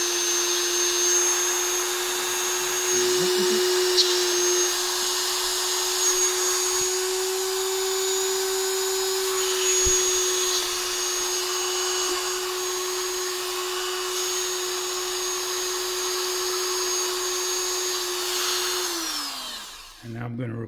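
A rotary tool with a polishing bit works heat stain off Victorinox tweezers, a steady high-pitched whine that holds for about twenty seconds, then winds down and stops.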